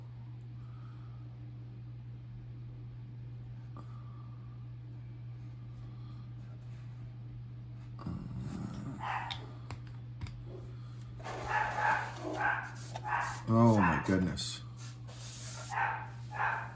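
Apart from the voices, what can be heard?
dogs barking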